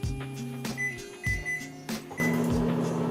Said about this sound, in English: I put it in the microwave for about 1 minute